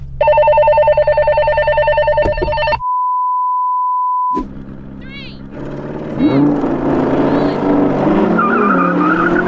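Audi R8 and Porsche Cayenne GT in a drag race: loud engine revs and tire squeal at launch, a steady tone interrupting, then roaring acceleration with squealing wheels as the cars pull away.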